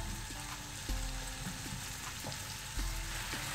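Chopped onion frying in butter in a pan, a quiet, steady sizzle with scattered soft crackles and pops. No one talks.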